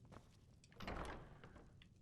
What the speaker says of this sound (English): Oh, that's a door.